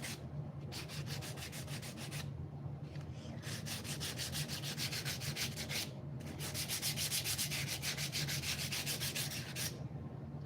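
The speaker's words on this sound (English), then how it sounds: "sharp corners on this box, right? So we are going to have to chamfer" Rhythmic back-and-forth sanding chamfers the sharp edges of a wooden box lid, in quick regular strokes grouped into several bursts with brief pauses, close and steady under a low hum.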